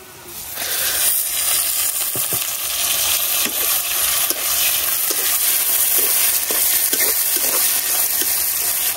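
Fish hits hot oil with onions and garlic in a pan, setting off a loud, steady, close sizzle broken by small scraping and stirring clicks.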